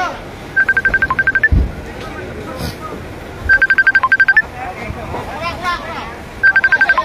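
A mobile phone ringtone sounds during a fire in Sitio Cagban, Manocmanoc, Boracay, three bursts of rapid beeping repeating amid loud crowd noise and commotion, with people talking throughout.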